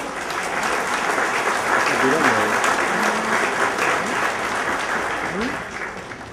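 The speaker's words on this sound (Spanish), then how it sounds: "El aplauso para Turisport." Audience applause at an award ceremony in Uruguay, a continuous dense clapping crowd that holds steady throughout while voices murmur and call out underneath.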